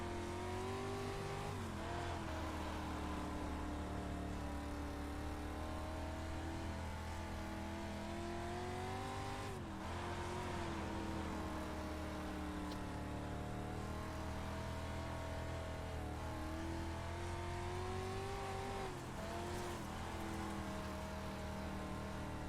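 A clumsy, big dirt race car in iRacing drones loud and steady at the Cedar Lake dirt track, its engine pitch dipping and climbing as it goes through the corners and back onto the throttle, with no talk over it.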